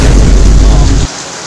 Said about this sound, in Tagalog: super grabe lakas ng ulan ngayon